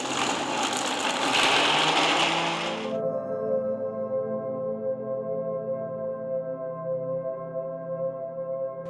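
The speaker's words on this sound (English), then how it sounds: "Grind all the ingredients to a nice fine powder." A grinder whirs loudly as it mills protein powder ingredients into fine powder, a dense roar for about three seconds that stops abruptly, leaving a steady low mechanical hum.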